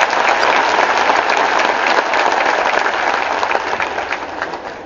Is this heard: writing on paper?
no